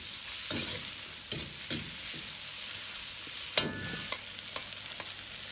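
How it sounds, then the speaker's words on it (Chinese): Eggplant and green beans are stir-fried with garlic in a wok, with a constant soft sizzle and scattered clacks and scrapes of the spatula, moderately quiet and close, with no talking. "炒至蒜末微黄，倒入炒过的豆角和茄子"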